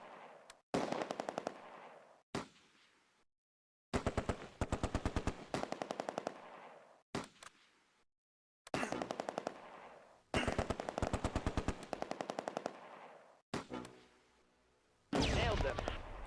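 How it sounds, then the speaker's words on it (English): Vickers machine gun firing in the Close Combat: A Bridge Too Far game, Arnhem setting: loud, close rapid-fire bursts repeat about seven times, separated by short gaps, with no one talking. "The Vickers targets a heavy machine gun moving in the open."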